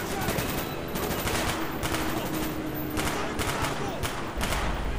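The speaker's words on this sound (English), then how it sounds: "He's shooting grenades, but he's bad." Grenade launcher fire in Call of Duty: Black Ops, loud and continuous, dense bursts of blasts and thuds packed together with no pauses through the whole stretch of combat.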